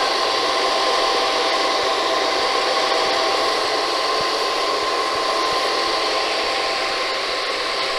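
An air purifier runs with its filter removed, its fan giving a steady, loud whooshing hum with no variation.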